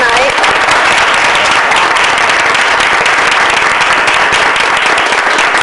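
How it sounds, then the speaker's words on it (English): A room of attendees at a town council meeting gives a round of applause, dense and loud clapping held steady for several seconds without letting up. "we do want to give her a round of applause"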